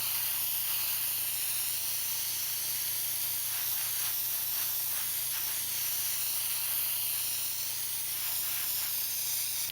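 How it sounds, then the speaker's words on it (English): Continuous spray of robin's egg blue paint from a can or airbrush onto a 1/1400 scale AMT Enterprise C model, a steady close hiss that holds level without pause. "we're ready to come back now and spray on our next color, which is our robin's egg blue"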